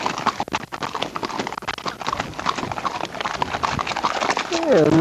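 Horses on a hilly trail make close, rapid clip-clop hoofbeats on the path for several seconds, with a whinny near the end and someone talking over them.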